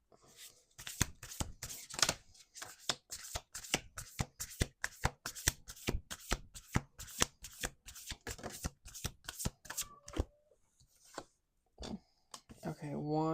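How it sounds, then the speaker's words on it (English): Repeated riffle shuffles of playing cards, rapid bursts of flapping cards in a steady rhythm, with a person talking quietly in between. "2 more shuffles."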